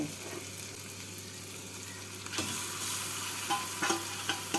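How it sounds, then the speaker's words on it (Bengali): Potato, onion and tomato fry in a pan with a constant low sizzle, then louder stirring and scraping comes in with a few sharp clinks as prawns are turned through the mix, close and without speech. "আলুটাকে পেঁয়াজ আর টমেটোর সাথে নেড়ে নিলাম এবার এর মধ্যে চিংড়ি মাছগুলোকে দিয়ে দেব"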